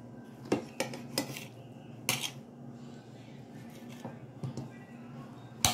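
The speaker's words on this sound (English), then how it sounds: "I'm just gonna continue slicing it just like that." Knife slicing Chinese eggplant on a board, giving a series of uneven, sharp cuts and clacks, close and fairly quiet, with low background hum.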